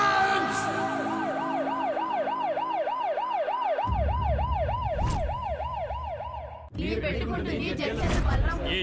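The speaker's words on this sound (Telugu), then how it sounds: "అంబులెన్స్!" An ambulance siren wails in a fast, even up-and-down cycle, loud and near, over a busy street with murmuring voices. It breaks off abruptly near the end, then a burst of street noise follows.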